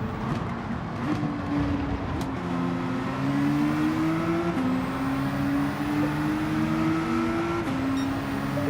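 Mazda race car engine in Gran Turismo 7, a steady droning whine that climbs in pitch through several gear steps, continuous and fairly close with no voices.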